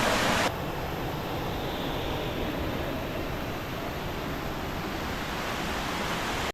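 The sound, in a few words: waterfall and river water flowing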